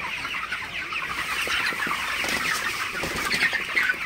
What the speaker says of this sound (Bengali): আমার মুরগিগুলা মাশাআল্লাহ খুবই ভালো আছে, সুস্থ আছে